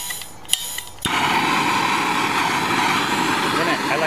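A torch heating a copper pipe union for soldering on a backflow preventer: a couple of clicks, then a steady, close broadband roaring hiss that holds evenly.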